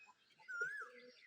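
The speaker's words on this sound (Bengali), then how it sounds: "কবুতরের খোপগুলো খুলে দিচ্ছি, দেখতে পাচ্ছেন প্রত্যেকটা ঘরে কবুতর আছে।" Pigeons in their coops give a soft call as the coop doors are opened, one clear drawn-out note near the middle standing over low background sound.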